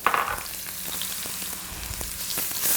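Garlic and onion sizzling in hot pepper oil in a pan while being stirred, a steady close frying hiss with faint scraping movements.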